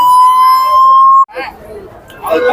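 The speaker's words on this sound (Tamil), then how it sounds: "ஒரு ஆம்புலன்ஸ் வரையும் போயிட்டு இருக்கு மக்கள் எல்லாருமே வழிவிட்டு இருக்காங்க" An ambulance siren sounds at a temple chariot festival, a loud steady wailing tone that cuts off abruptly, followed by crowd noise and a fainter return of the siren.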